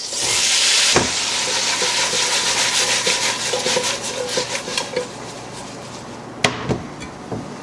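Green beans and garlic sautéing in a pan, with a loud sizzle at first that eases into a steady fry, interrupted by a couple of sharp clanks and spatula scrapes against the pan.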